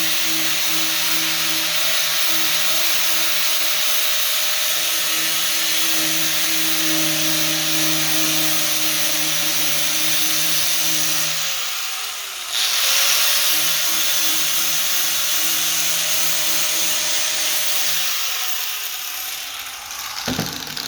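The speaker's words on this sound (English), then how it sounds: "I'm going to grind this down so we can put our metal rod in there" A power grinder works a dented steel car body panel in a repair shop, a continuous high buzzing whine with a steady hum that pauses briefly midway, then drops in pitch near the end.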